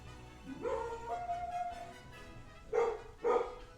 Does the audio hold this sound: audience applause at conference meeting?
no